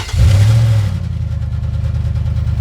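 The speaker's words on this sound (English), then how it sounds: "The ignition turns, the engine starts and runs." A Kantanka V8 engine, built from scratch in Ghana, fires up with a loud starting burst, then settles into a steady, rumbling idle that carries on to the end.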